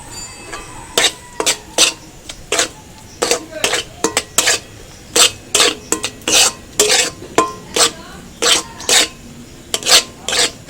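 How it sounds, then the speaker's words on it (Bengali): Ingredients for palm-fruit langcha sweets are stirred together in a kadai, with sugar and salt among them. A utensil scrapes the pan in rapid, repeated, close strokes, about two per second, and a voice is briefly heard. "সব কিছু দিয়ে ভালো করে নেড়ে নেব।"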